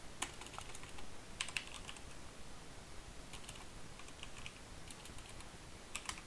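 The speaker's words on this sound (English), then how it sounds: "So I'll just type King Hype there." Typing on a computer keyboard, a quiet run of soft, irregular key clicks in short bursts, entering a short name, with no talking.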